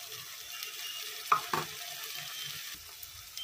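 Onion, ginger-garlic paste, tomato and cashew paste cooking in a pan for shahi paneer, a soft steady sizzle broken by two sharp scrapes and clinks of stirring near the middle.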